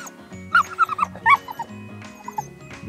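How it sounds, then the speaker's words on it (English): A dog being trained at home with treats while it waits for calm makes a string of short, high yips and whimpers, near and fairly loud, in uneven bursts against a quiet room, with no one talking. "I'm simply giving him, Ralph, these treats when he's nice and calm"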